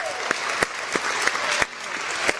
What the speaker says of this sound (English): So let's give another huge round of applause for that.